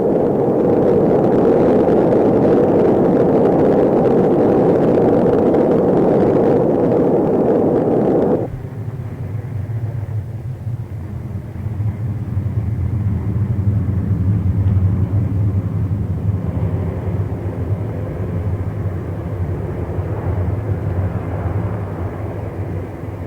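Rocket engines roaring at the liftoff of an Atlas intercontinental-missile booster, a loud sustained crackling roar that shifts abruptly to a deeper rumbling thunder partway through and stays powerful throughout.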